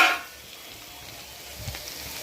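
Ginger and garlic sautéing in a pan give off a soft, steady sizzle that holds at a low level throughout, with a brief louder hiss at the start.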